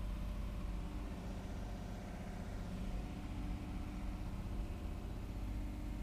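A carbureted 1957 Mercury Monterey idles in neutral while warming up, a steady low rumble that stays even and unbroken throughout.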